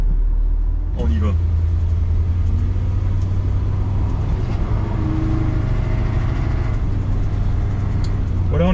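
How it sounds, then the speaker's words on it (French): A 1968 Ford Galaxie 500 convertible engine pulls while driving with a steady low hum. A brief shift change comes early on, and someone talks over the drone. "on est passé en seconde, donc transmission douce. Le moteur n'hésite pas, il est doux lui aussi."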